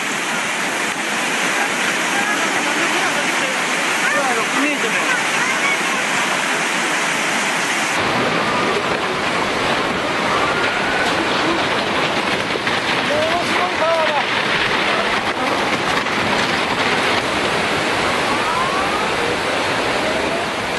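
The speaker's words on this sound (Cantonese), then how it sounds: "大水穿越大樓" Tsunami floodwater pours through buildings in Sendai, knocking down utility poles, as a loud, continuous roaring rush of water fills the scene from start to end and grows broader partway through.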